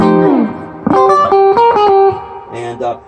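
Electric guitar similar to an Epiphone Les Paul played through an amplifier with reverb set to 3, with a few sustained chords and notes ringing out loud and close, a short tail between them.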